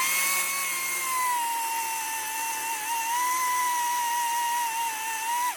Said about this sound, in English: this is generally Jane's chainsaw